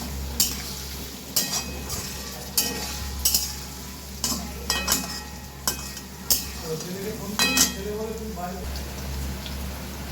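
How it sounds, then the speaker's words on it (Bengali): Potato and onion frying in a pan with grated garlic added, a steady sizzle under repeated sharp scrapes and clinks of a spatula stirring, with a low hum throughout. "এবার আমি গ্রেট করা রসুনটা দিয়ে দিচ্ছি, দিয়ে আরও কিছুক্ষণ ভেজে নেব।"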